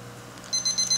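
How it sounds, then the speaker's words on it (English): A cooking thermometer alarm signals that a smoked beef brisket has reached its internal temperature, giving four quick, high electronic beeps in a row over a faint low background hum. "You can hear the alarm going to go off."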